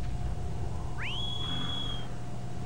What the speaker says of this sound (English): How about we whistle for him?